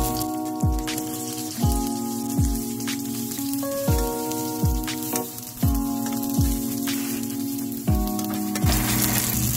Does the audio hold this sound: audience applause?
no